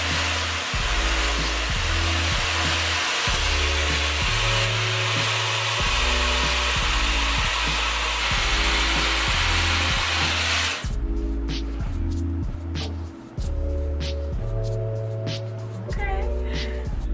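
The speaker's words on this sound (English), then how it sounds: "now I'm going to diffuse my hair" Hair dryer with a diffuser drying curly hair, a loud, steady close-up blowing roar throughout, pulsing as the dryer moves and briefly shifting in tone partway.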